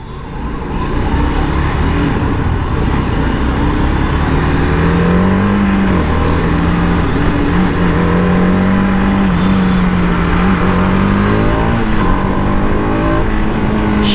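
A TVS Apache RR 310 BS6 sport motorcycle engine roars continuously up close in city traffic, its pitch rising and falling as it accelerates, with wind and traffic rumble blending in.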